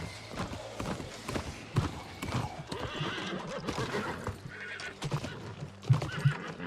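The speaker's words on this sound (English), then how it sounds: "What kind of horse is this?" A horse in the video game New World whinnies and its hooves clip-clop, with sharp hoof beats and a neigh at moderate volume.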